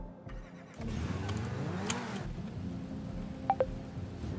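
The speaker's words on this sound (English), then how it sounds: "Now let's spawn a car." A car spawned on a GTA V FiveM server idles with a low, steady engine hum, rising slightly in pitch partway through, and a couple of short clicks come near the end.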